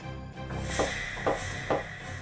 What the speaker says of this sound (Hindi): चलिए अभी दरवाजा खटखटा लेते हैं